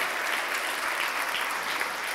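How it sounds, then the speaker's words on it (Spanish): A church congregation applauds during a pastor's Spanish sermon, with dense, steady clapping throughout and no talking. "Denle un aplauso a Jesús por ello."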